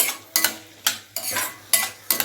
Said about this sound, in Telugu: పచ్చిమిర్చి సన్నగా తరిగిన పెద్దలపాయ ముక్కలు పచ్చిమిర్చి ఆయిల్ వేసి కొంచెం వేగనిద్దామండి